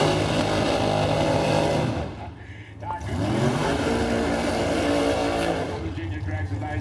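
A modified drag-racing dragster with a 615 cubic inch engine roars loudly at a drag strip. It briefly dips before surging again, under a commentator's voice.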